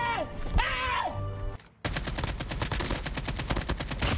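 Rapid automatic gunfire from Call of Duty Mobile breaks out after a brief lull, a dense, steady stream of loud shots that continues to the end, preceded by a short stretch of tonal game sound.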